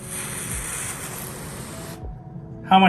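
A steady hiss of water spraying to rinse a car runs for about two seconds, then stops, followed by a brief louder clatter at the end.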